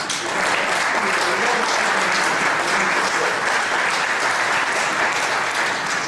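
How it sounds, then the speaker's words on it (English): A large audience at the Green Cross General Assembly in Geneva claps steadily and loudly for the organization, a dense, even roar of hands throughout. "I want to have a big applause for the organization."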